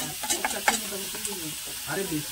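Mustard and cashew paste hits a hot pan for a sour raw mango dish, giving a soft sizzle with a few stirring knocks and some faint tonal sounds mixed in.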